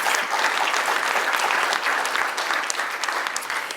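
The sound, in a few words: audience applause for students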